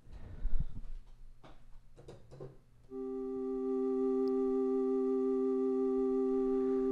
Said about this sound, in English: that's bottle blow from the XP10